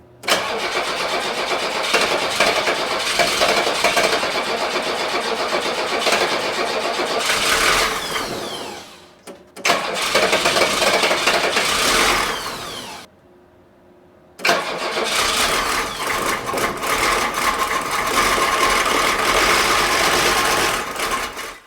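A Volvo 740 with a D24T turbodiesel cranks and fires, running loud and rough with an uneven clatter, then cuts out and restarts twice, each run ending in a brief quiet gap.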